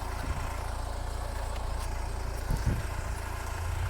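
A 2007 Honda CR-V with the 2.2 CTDi diesel and six-speed manual idles steadily, a low even rumble heard close and continuous with no talk over it.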